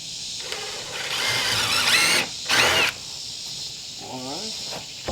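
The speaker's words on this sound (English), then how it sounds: "Pre-drill our ends here." A power drill pre-drills the ends of wood siding boards on an open-frame workshop wall, whirring in two bursts that rise in pitch, with a short pause between them, followed by a brief voice.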